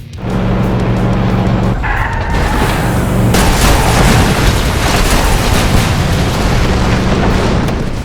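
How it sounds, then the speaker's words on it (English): Cars crash and pressurized gas tanks explode in the Flatout racing game: a loud engine drone, then a heavy boom, followed by a sustained roar of blast, debris and skidding. "in Flatout, objects feature their own unique properties, such as pressurized gas tanks getting sent flying before exploding"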